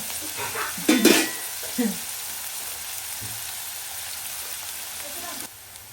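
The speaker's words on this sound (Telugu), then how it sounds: "ఓకే అండి ఆనియన్స్ అయితే ఫ్రై అయిపోయాయి ఇంకా కొంచెం కలర్ రావాలి" Chopped onions fry in a pan with oil, cooking for a chicken keema curry, giving a steady close sizzle with a few louder scraping stir strokes near the start.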